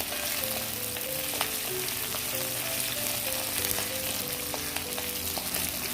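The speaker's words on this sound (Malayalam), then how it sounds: "നന്നായിട്ട് ഇളക്കി കൊടുക്കും മല്ലി നന്നായിട്ട് നോക്കണം" Coriander seeds roast in a pan for varutharacha chammanthi, a continuous dry sizzle with light intermittent stirring taps and scrapes.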